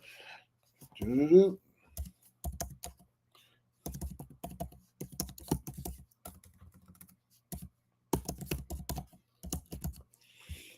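Clusters of quick computer keyboard keystrokes tap out in bursts at close range, alternating with pauses and someone talking between and over the typing.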